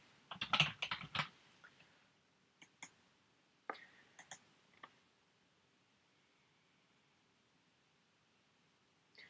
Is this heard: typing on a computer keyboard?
yes